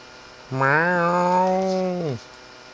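A cat-like mob call from the game Minecraft: one drawn-out, rising then steady tonal meow-moo lasting about a second and a half, loud and clear with no talk over it.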